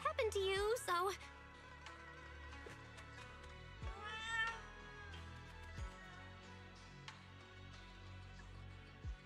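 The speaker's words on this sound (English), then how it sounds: "Chubby orange cat." A chubby orange cat in the video game Zenless Zone Zero lets out a loud, wavering meow at the start and a second meow midway, against a soft game backdrop with speech mixed in.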